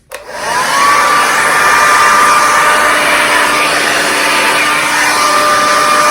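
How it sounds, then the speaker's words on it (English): A hair dryer on its cold setting switches on and blows with a loud, steady whir that continues without a break. "This is on the cold setting of my hairdryer."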